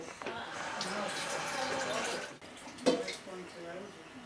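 Tap water runs into a cooking pot being filled for menudo, a steady wash of filling water that briefly cuts out and resumes, with someone speaking over it.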